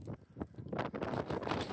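Gusty wind buffets an outdoor microphone during a metal-detecting dig, a steady broadband rumble and rustle that swells and stays loud throughout with no voices.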